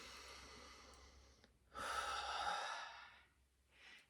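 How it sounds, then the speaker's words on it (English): A deep breath drawn in and let out slowly during a guided breathing moment, close and soft, with a faint sigh-like exhale near the end and no talking. "take a deep breath together"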